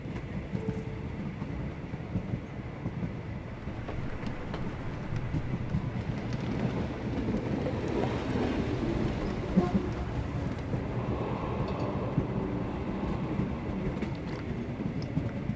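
Train rolling along in the video game Sherlock Holmes The Awakened, a steady low rumble of carriages with faint rhythmic rail noise throughout, no voices.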